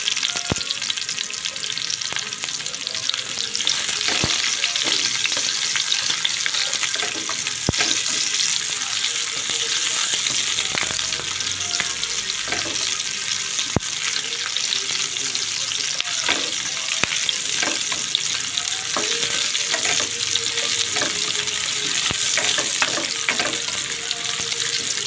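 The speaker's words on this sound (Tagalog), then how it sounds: "papabrown-brown muna natin ang ating bawang. Tapos lalagyan na natin ang ating" Garlic and onion sauté loudly in hot oil for broccoli with pork, a dense continuous frying hiss with scattered crackles and spatula taps throughout.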